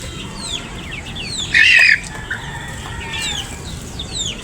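Backyard chickens clucking and squawking: scattered short calls near and far, with one loud, sharp squawk burst close by, over a steady background hiss.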